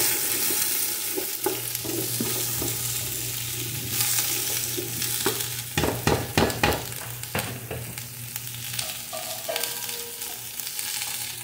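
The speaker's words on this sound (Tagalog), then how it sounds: "2 malalaking puting sibuyas. So yun lang natin mag-translucent na yan siya." Two large white onions fry in a pan with a steady close sizzle, while a utensil stirs and scrapes in a few quick bursts, no talking.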